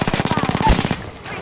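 Rapid automatic gunfire in a multiplayer shooter video game, a fast even burst of about a dozen close, sharp shots followed by a quick fading tail.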